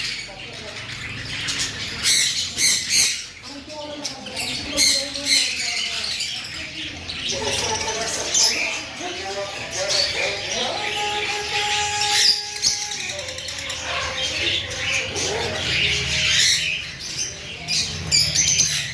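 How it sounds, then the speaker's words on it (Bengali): Busy chorus of budgerigars chirping and squawking at a bird market in Mirpur-1, dense and continuous, with a person talking over the chatter throughout. "দেখুন সেই বার্জিকার পাখিগুলো"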